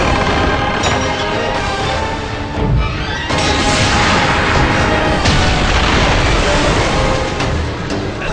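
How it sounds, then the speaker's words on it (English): In the God of War: Chains of Olympus battle of Attica, a ballista fires amid a dense, loud wall of booming blasts and crashes, with heavy impacts layered over constant battle noise. "go shoot the ballista to stop those ships from firing"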